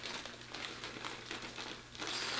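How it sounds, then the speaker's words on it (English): A small plastic baggie crinkles and rustles steadily as a wig unit is pulled out of it, close and fairly soft, with uneven crackling pulses throughout. "I'm going to take the unit out of the little plastic baggie that it comes in."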